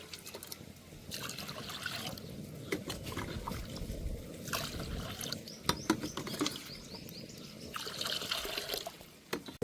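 Water trickles and splashes faintly into a cooking pot set up to be heated for jeera rice, with soft liquid pouring and dribbling sounds in uneven bursts in a quiet kitchen.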